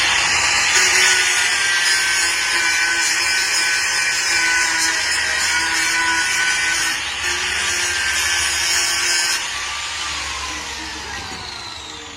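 A stiff pliers joint being rubbed down, making a steady, harsh abrasive whir close up for about nine seconds, then tailing off to a softer, fading grind with no talking.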